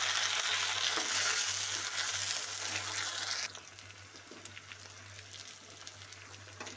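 Tomatoes and green chillies tipped into browned onions in a pan set off a loud, steady sizzle of frying, which cuts off abruptly partway through and drops to a quieter crackle with a few light stirring clinks.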